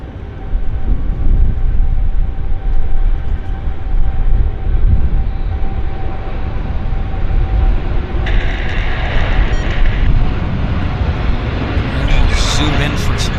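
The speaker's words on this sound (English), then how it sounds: "Dreamliner's on the roll for Pudong." A Boeing 787 Dreamliner rolls for takeoff at Vancouver airport, a broad, steady engine roar heard from a distance under continuous talking, with a brief higher whine layered in near the end.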